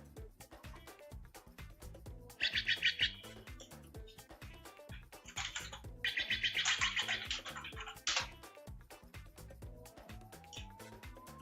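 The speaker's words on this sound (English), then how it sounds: "these are my favorite little birds that come to my bird feeder" Harsh, raspy Steller's jay calls at a backyard bird feeder, a short burst followed by a longer run of repeated notes, fairly close and clear over steady outdoor background noise.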